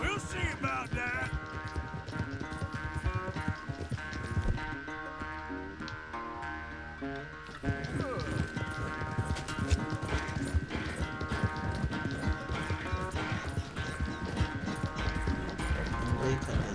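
Horses gallop hard in a race in Red Dead Redemption 2, a dense rapid drumming of hooves under game music and someone talking, with a brief quieter stretch midway before the pounding resumes.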